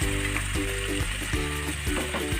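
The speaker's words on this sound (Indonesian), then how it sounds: "Lalu kita aduk lagi." Beef madras sizzles loudly in a pan as it is stirred, with steady frying hiss broken by rhythmic scraping strokes of the spoon at close range, no voices present.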